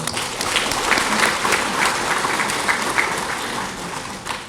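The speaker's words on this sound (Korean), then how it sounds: "우리 함께 계신 모든 분들을 환영하는 의미에서 한번 우리 박수 한번 보내드릴까요" A crowd at the opening ceremony of the Daegu volunteer expo claps to welcome guests, dense, even applause filling the hall at a steady level for several seconds.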